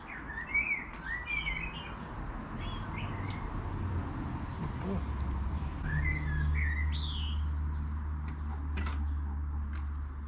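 A small pet bird chirps and tweets in short bright bursts and trills, close by, over a steady low hum of background noise.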